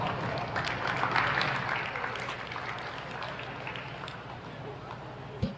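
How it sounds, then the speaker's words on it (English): A basketball crowd at the Augusta Civic Center claps for faculty and staff, a dense, moderately quiet patter that swells early, then thins and fades toward the end. "Please give all these faculty and staff a round of applause."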